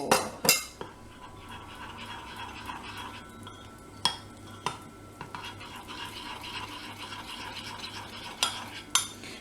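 A chocolate mixture with lemon and stem ginger is stirred in a bowl, a soft continuous scraping broken by several sharp clinks of the utensil against the side, close and unaccompanied by speech.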